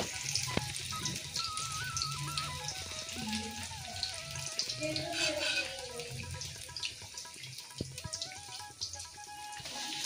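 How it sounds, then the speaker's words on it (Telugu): Paneer pieces fry in a pan with a faint, steady sizzle, heard quietly beneath melodic background music. "పన్నీర్ ముక్కలన్నీ చక్కగా ఫ్రై అయిపోయాయండి"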